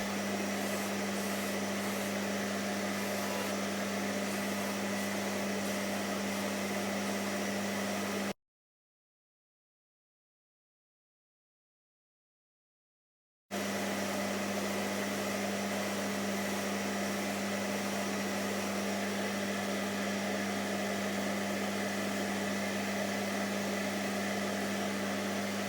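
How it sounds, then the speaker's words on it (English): Polishing the bezel of an old Omega watch, roughly a century old, with a steady loud whirring machine hum and hiss that runs continuously, cuts out for several seconds, then resumes unchanged. "So now I'm just polishing the bezel and then I'll move on to the case."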